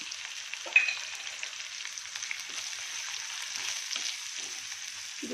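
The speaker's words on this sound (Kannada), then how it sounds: "ಇದು ಸ್ವಲ್ಪ ಫ್ರೈ ಆಗಲಿ ಎಣ್ಣೆಯಲ್ಲಿ" Bisibelebath spice powder frying in hot oil, a soft steady sizzle with occasional light stirring scrapes and a brief louder clink near the start.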